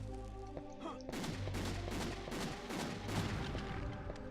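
A six-shooter revolver in Castlevania Legacy of Darkness fires a rapid string of about six shots over steady game music.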